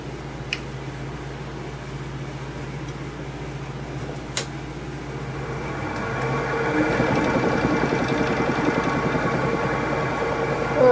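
Wood lathe spinning a broken-top bowl at 620 RPM, a steady mechanical hum and whir that swells louder after a few seconds, with a couple of faint clicks, no talk.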